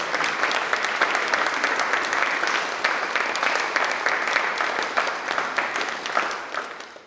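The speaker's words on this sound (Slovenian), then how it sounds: "Še en velik aplavz za pevce in pevke" Audience applause for choir singers at an evening event about Kočevje folk songs, dense sustained clapping from a full room, loud and even before fading at the end, with no talk over it.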